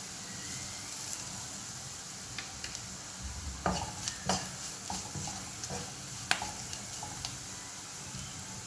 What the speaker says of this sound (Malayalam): സ്വല്പം മഞ്ഞൾ അതും കൂടെ ഒന്ന് ചേർത്ത് ഇളക്കിയിട്ട് സ്വല്പം ഉപ്പ് ചേർക്കാം